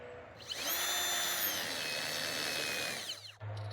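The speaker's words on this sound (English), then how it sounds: "I was finally able to drill the hole." A Ridgid 18V subcompact brushless hammer drill whines steadily at high speed into brick mortar for about three seconds, close and loud, then spins down and stops.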